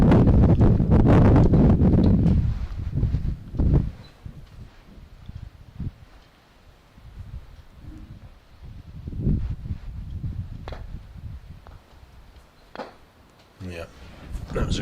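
Gusty wind at an outdoor England v USA golf croquet match, a strong roaring buffet at the start that settles into lighter gusts as commentators talk throughout.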